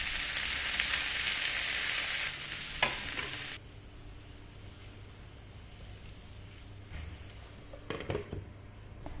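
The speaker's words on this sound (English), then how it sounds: "I add in a tablespoon of olive oil, 4 garlic cloves, 1 big onion that I saute until it's golden brown in color" Garlic, onion and chopped tomatoes sauté in olive oil in a pan with a steady close sizzle that is loud at first, then drops to a softer hiss, with a few stirring scrapes near the end.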